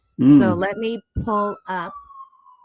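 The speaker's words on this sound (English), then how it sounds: "So you hear the siren." A siren sound effect plays during a podcast with a short wailing sweep mixed under a man's brief speech, then trails off into a thin, fading steady tone.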